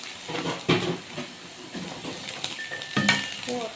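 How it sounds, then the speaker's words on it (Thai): Chillies dry-roasting in a pan while being stirred, with scraping and clinking of utensil against metal over a soft hiss, close and moderately loud, occasional knocks standing out. "เรามาคั่วพริกกันเลยนะคะ"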